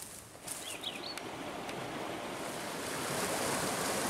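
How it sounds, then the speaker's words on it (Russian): Full spring forest river in full flow, a steady broadband rush of water close by that swells slightly toward the end, with a faint bird chirp early on. "Такая полноводная лесная река."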